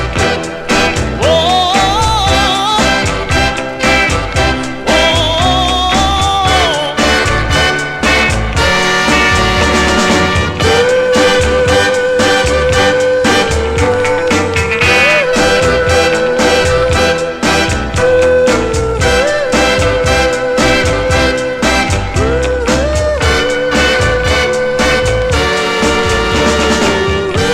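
A soul 45 plays on vinyl, a loud, full band with lead vocal over a driving beat, continuous throughout.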